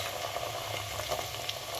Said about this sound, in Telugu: ఉల్లిపాయలన్నీ బాగా ఫ్రై అయ్యాయి